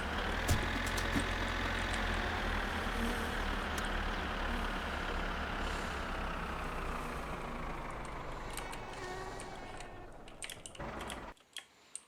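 Tractor engine running in the driving game My Summer Car, a loud steady diesel rumble with rattling that holds constant for about eleven seconds before cutting out abruptly, followed by a few faint clicks.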